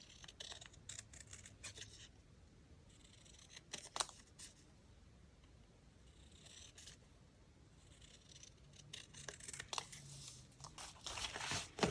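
Scissors snip through dry napkin paper for a folio in quiet, close, intermittent cuts with light crinkling and scraping, and no talk.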